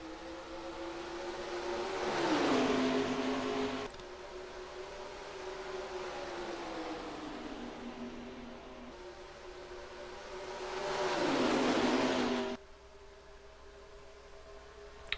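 Race car engines in the video game NASCAR Racing 2003 at Homestead drone steadily, with two loud pass-bys rising and falling in pitch.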